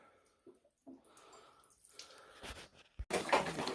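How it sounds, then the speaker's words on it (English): Water rushing out of a hose while a hot water tank drains, quiet and sparse at first with a few drips and clicks, then building into a louder, steady gush toward the end. "Now we got water coming out of that hose."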